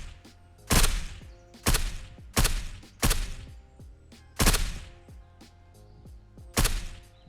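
Six heavy 9mm gunshots from the zombie shooter Surroundead, each a loud sharp crack with a booming tail, spaced roughly a second apart with short gaps between, no talking.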